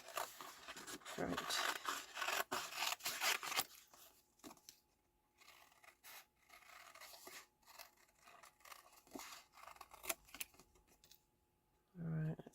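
Scissors snip and slide through paper cardstock while fussy cutting a card design, a busy run of close rustling cuts that thins into sparse clicks and pauses, with a brief voice near the end.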